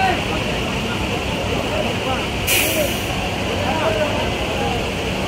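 Air brakes hiss at Kalampur bus stand amid an Eid traffic jam of buses and trucks; one short sharp burst of released air cuts through a constant dense roar of idling engines and road noise.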